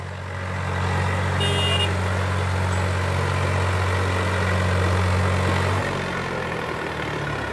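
A Swaraj 744 FE tractor pulling a 14-disc harrow in a field, its engine giving a steady, loud low-pitched drone for about six seconds before easing off.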